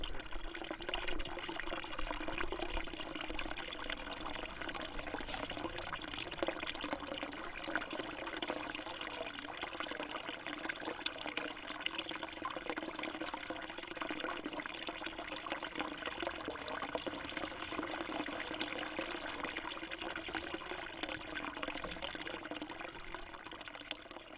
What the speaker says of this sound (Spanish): aquí tiene la fuente donde cayó el agua